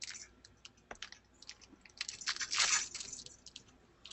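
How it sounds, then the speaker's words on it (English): Several people tap away on computer keyboards in a classroom, the quiet, irregular clicks scattered across a few seconds with a brief denser burst midway, and no talking over them. "There's some people typing."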